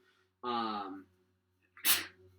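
A single close sneeze: a voiced intake rising into a sharp, explosive burst, with near silence around it.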